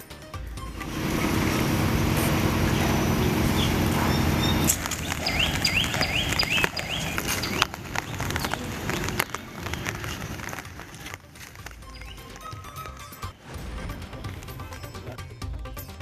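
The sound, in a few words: heavy rain pouring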